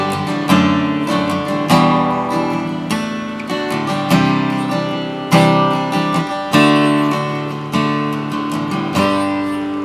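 An acoustic guitar plays the chorus-to-verse transition of a song, with strummed chords changing at a steady rhythm and no voice over them.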